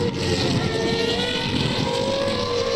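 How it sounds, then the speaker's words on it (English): Formula 1 race cars battling at the 2001 Belgian Grand Prix give off a loud, sustained high-revving engine drone with a steady pitch, heard alone with wind-like broadband noise. "Fisichella and Coulthard doing battle over 2nd"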